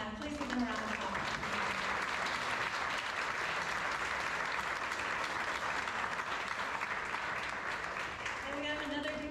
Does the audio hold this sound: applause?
yes